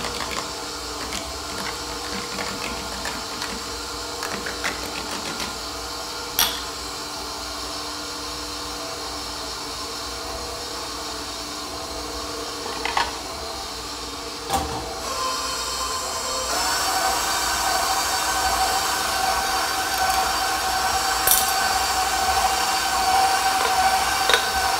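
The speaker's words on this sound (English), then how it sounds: "Might mix this up just a bit." Gluten-free French bread dough with yeast being mixed, likely by an electric mixer: a steady mechanical whir runs throughout and rises in pitch and loudness about two-thirds of the way in, with a few brief clicks.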